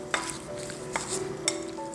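Cut lemon pieces get stirred together with salt and turmeric powder, making three soft, evenly spaced scraping clicks over a quiet, steady hum.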